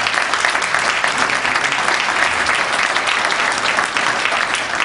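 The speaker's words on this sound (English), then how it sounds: "I want to give a round of applause for our panel members." Sustained applause from the audience for the panel members at the close of a morning panel discussion session, a dense, steady wash of clapping filling the room.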